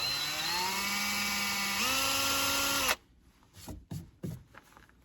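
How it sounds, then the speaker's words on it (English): A small 1/8 to 1/4 inch drill bit bores into a Jeep fiberglass hardtop, a steady high whining drill with a pitch drop partway through, ending abruptly and followed by scattered scraping and handling noises. "the first hole we're going to make with a very small 1/8 inch to 1/4 inch drill bit"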